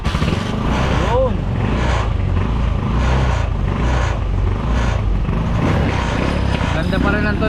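A BMW motorcycle engine runs steadily close by, a constant low hum with a faint whine, heard continuously under background noise and brief voices.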